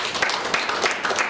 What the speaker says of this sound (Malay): Saya di sini juga nak bagi tepukan pada orang yang merancangkan sebenarnya, Puan Hafidah Ibrahim.